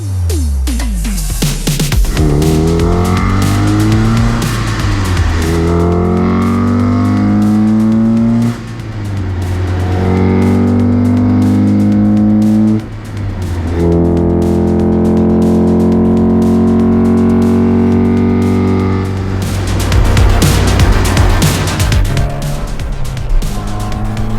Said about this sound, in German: das ist mein Kadett E GSI 16V